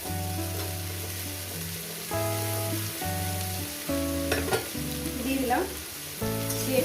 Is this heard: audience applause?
no